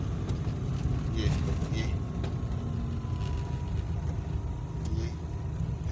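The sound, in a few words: car descending a hill road in second gear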